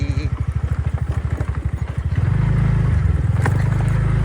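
A motorcycle engine runs close by, starting with a rapid pulsing thump that smooths into a steady, louder hum partway through.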